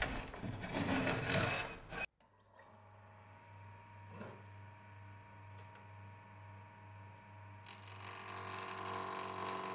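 Wood turning on a lathe while making a flint knapping tool: a loud scraping, rasping cut for two seconds, then a steady motor hum with light ticks before the gritty cutting sound returns.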